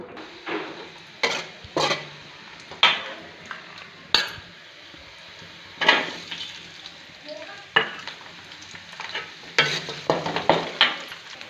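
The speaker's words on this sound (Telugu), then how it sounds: "ఆయిల్ వేసి ఎర్రగడ్డ తెల్లగడ్డ ఎర్రగా వేయించుకున్నాను" Onion and garlic fry in oil in a pan, with a metal spoon scraping and clanking against the pan in irregular bursts over a soft continuous sizzle. The sound is close, and nobody talks.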